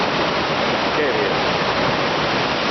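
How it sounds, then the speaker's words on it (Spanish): A sea wave crashes into a coastal cave at Cova dels Arcs, Cala dels Testos, making a loud, dense, steady roar of churning water that fills the whole moment. "¡Qué ola!"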